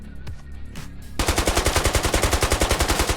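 A rifle with a 4x scope in the Squad video game fires a rapid automatic burst of sharp, loud, evenly spaced shots after a brief quieter moment of handling noise.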